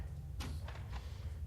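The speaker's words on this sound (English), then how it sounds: "The door unlocks." A short mechanical clunk followed by a couple of softer clicks, like a door latch releasing, over a low steady hum, as a door unlocks in the video game Shadowrun.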